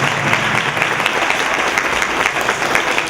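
An audience at a breast cancer awareness event claps continuously, a dense, steady wash of applause that stays loud and even from start to finish with no talking on top.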